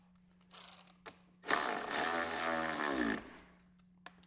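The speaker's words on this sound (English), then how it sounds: "Let's go and tighten up that front bolt as well." A ratchet tightens the front mounting bolt for LED turn signals on a Harley motorcycle, with a few light clicks and then a sustained, loud grinding rasp that stops abruptly. A low steady hum continues underneath.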